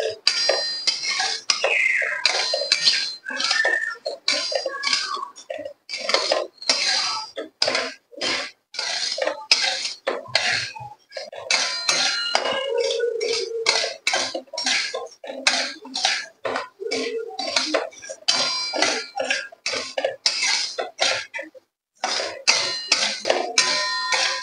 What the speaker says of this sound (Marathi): हलकस तांदळाला जास्त भाजायचं नाही, हलकस भाजायचं तांदळाला.